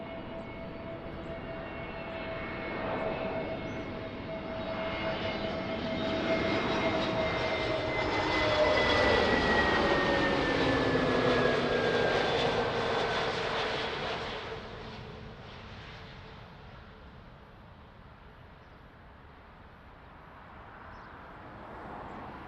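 A propeller aircraft at Lisbon Airport passes with a droning engine that swells to a loud peak mid-pass, its pitch sliding downward before it fades into the distance.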